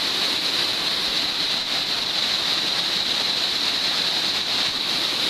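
Class 3 whitewater rapids on First Creek, a shallow staircase drop about ten feet tall, roar as a steady, loud broadband rush of churning water without pause.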